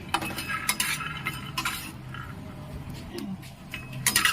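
A spatula scrapes and clinks against a pan while an idli mixture fries, making repeated scraping strokes over a soft sizzle at close range.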